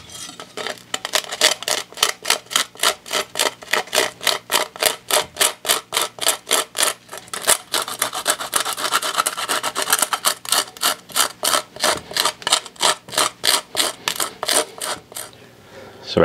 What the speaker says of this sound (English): we're going to use a cheese grater here and try to get these in a finer powder